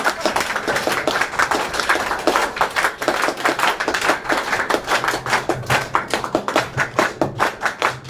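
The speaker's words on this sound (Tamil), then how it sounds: "சார் இதெல்லாம் வேணும்ன்றவங்க எல்லாம் பலமா கை தட்டுங்க சார்." Loud clapping from a training-session audience, a dense burst of many hands that swells into a fast, steady rhythmic beat and carries on throughout with no talking.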